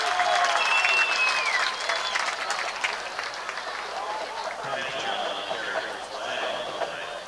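A crowd at a 2019 Ohio high school football game between Chardon and Kenston rises in loud cheering and applause after a late penalty flag, with voices and sharp whistle-like tones mixed into the noise.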